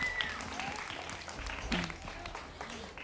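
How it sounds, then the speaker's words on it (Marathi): A studio audience on a Marathi TV game show applauds a contestant, steady moderate clapping throughout, heard at a distance and slightly muffled, with a faint voice or two mixed in. "एकदा जोरदार टाळ्या हव्या यांच्यासाठी"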